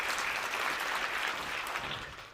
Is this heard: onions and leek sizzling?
no